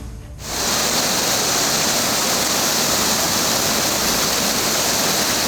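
The swollen Gori river in flood at Pithoragarh, Uttarakhand, rushes in a loud, dense, unbroken roar of churning water that starts abruptly and holds steady, with no voices.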